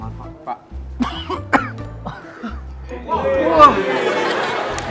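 A man coughs several times, with throat clearing, in short bursts close to the microphone, while other people chatter and laugh in the background on a television studio show.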